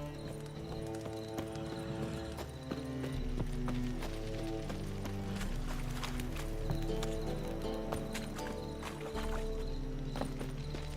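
Horse hooves clip-clop at a steady walking pace in The Witcher 3, layered over sustained music tones and a low drone, with a faint whinny and no voices.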